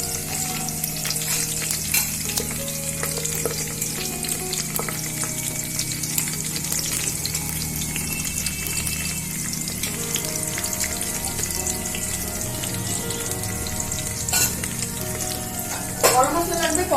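Cashews and raisins fry in hot ghee with bay leaf and whole spices, a loud, close, continuous sizzle with stirring scrapes throughout and no one talking.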